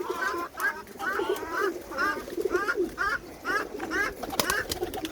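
Birmingham Roller pigeons in a loft give a steady series of rolling, throaty coos, about a dozen repeated calls in an even rhythm, close and clear, with faint background clatter.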